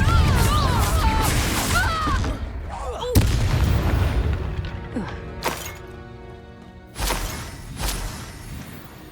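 Confringo explosive spell blasts in the game Hogwarts Legacy, several sharp booming impacts with crackling debris amid whooshing spell effects and combat clamor, loud and close.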